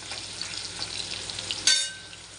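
Steady sizzling of salted potatoes frying in hot oil in a wok, then a brief louder hiss and clatter of a stir before the sizzle settles down.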